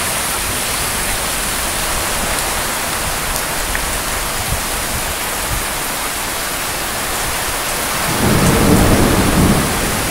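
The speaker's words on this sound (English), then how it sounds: "And here comes some more. Thunder." Heavy rain pours steadily in Morris with a dense, constant hiss, and a deep rumble of thunder rolls in near the end, growing louder for a couple of seconds.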